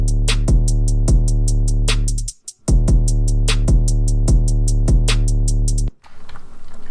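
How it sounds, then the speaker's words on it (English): Programmed drum loop with steady eighth-note hi-hats over a thumping kick and snare, closing on a rapid sixteenth-note turnaround fill; loud and solo, with a brief drop-out near the middle and no voices. "we'll create a turnaround at the end of the 2nd and 4th measures by adding in some 16th notes"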